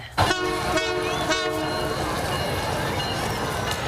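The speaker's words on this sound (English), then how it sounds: "The schedule is now out for the CPKC holiday train." CPKC holiday train sounding its horn, loud sustained blasts in repeated pulses over rail rumble, with the horn dominating the start and the train's steady roar continuing after.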